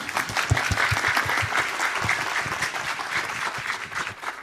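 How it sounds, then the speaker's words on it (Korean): A lecture hall audience at a talk on the Nobel Prize in Chemistry applauds a speaker coming on stage, a lively burst of many hands clapping that stays full and then begins to taper near the end. "여러분 큰 박수 부탁드립니다"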